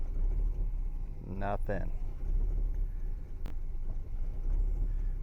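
A 1966 Lincoln Continental, started for the first time in over a decade, runs with a steady low engine rumble throughout, and a voice briefly speaks over it.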